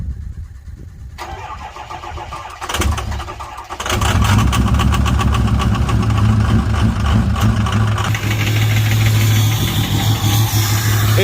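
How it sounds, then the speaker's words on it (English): A 6.0 engine in need of injectors cranks and catches, then settles into a loud, rough, chugging idle close by with an uneven, lumpy beat. "let me just show you how rough it's running"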